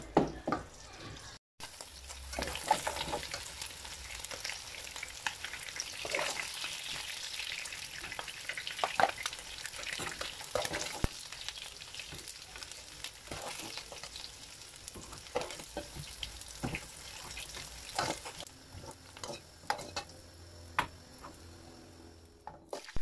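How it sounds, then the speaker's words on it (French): Meat searing in hot oil for a West African rice dish, giving a constant close crackling sizzle with scattered pops and the occasional scrape of stirring, running unbroken throughout. "maintenant, je vais laisser griller la viande."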